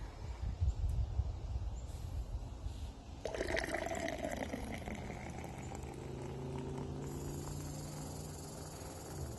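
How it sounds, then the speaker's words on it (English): Rhubarb berry syrup is poured into sparkling water in a glass, a brief liquid splash followed by a steady fizzing trickle and rising fill tone, fairly quiet. "I'm going to mix this with the sparkling water."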